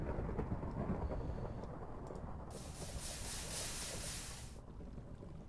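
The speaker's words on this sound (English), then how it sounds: "That thunder really doesn't help me feel better, does it?" Thunder in the video game Minecraft rolls as a steady low rumble, swelling into a louder, hissing crack midway before settling back to a distant grumble, with no talking.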